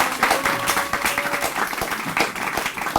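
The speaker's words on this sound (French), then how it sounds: "Ça s'applaudit, ça s'applaudit." Audience applause at a French-language one-man comedy stand-up show, dense steady clapping from a live crowd throughout, fairly loud and close.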